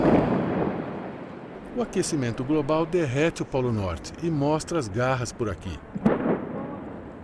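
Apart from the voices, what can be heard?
glacier ice chunk breaking off, sounding like cannon fire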